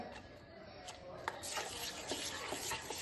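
Chopped cabbage is stirred in a pan, giving soft scraping and rustling strokes with faint sizzling, close and fairly quiet, and a few sharper clicks from the utensil.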